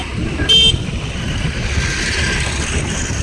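A vehicle driven by a woman along a village road near Visur Karuppar temple, with steady engine and road rumble throughout and a brief horn-like tone early on.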